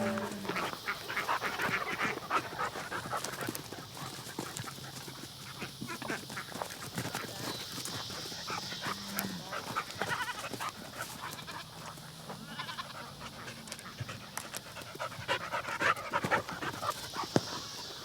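A livestock guardian dog pants steadily in a farm pen, quick rhythmic breaths close by and fairly quiet, with faint duck quacks and other animal sounds in the background.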